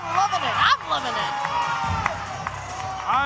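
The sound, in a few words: wrestling arena crowd cheering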